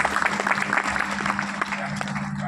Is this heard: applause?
yes